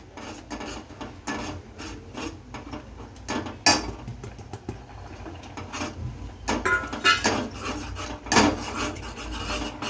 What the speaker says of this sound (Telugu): ఒక గ్లాసు తెలగపిండి వేసుకుని బాగా కలపాలండి